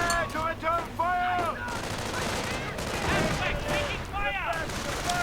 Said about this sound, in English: Ostwind moving up to support his 37mm flak cannon going off. Grenades getting lobbed.